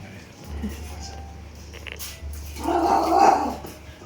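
A dog makes short whimpering, barking sounds nearby over a steady low hum as it is served duck congee, with a louder burst of activity toward the end.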